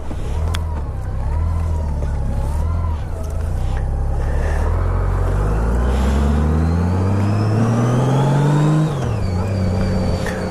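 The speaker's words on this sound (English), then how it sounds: "It's the Honda Goldwing. It's 1800. It's the Boxer 6." Honda Goldwing 1800 flat-six trike engine pulling up through the revs, a loud close rising drone that climbs steadily, drops briefly at a shift, then climbs again, with wind and road noise mixed in.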